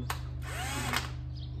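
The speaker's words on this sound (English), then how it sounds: "I'm just gonna take my drill." A power drill whirs steadily while extracting floor mats from a 2009 Honda Pilot, a continuous close motor whine with brief pitch rises and a few louder bursts.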